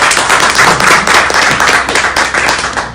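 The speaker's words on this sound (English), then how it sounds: "Can we have a massive round of applause for her?" A large crowd claps and applauds loudly, a dense, steady wash of many hands lasting the full few seconds with no voices on top.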